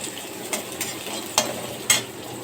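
Onions and green chillies frying softly in a pan for a home-style pasta, a low steady sizzle with a few sharper stirring scrapes and clinks standing out at irregular moments.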